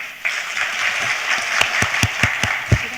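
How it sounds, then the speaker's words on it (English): An audience claps hands in a loose, scattered patter, with several sharper individual claps standing out near the end. "Can you please clap your hands if you're happy?"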